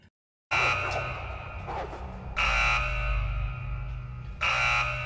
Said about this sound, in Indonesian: tiba-tiba alarm kurungan milik Sean berbunyi